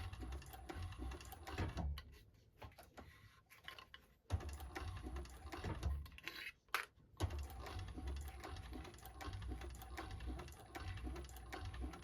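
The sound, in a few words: sewing machine stitching tote bag seam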